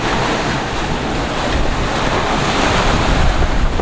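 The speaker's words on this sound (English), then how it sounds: "We're at basically a gale." Gale-force wind roars steadily across the microphone while waves surge around a sailboat at sea, forming a loud, dense, unbroken rush throughout.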